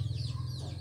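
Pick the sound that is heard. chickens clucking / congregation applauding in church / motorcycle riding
chickens clucking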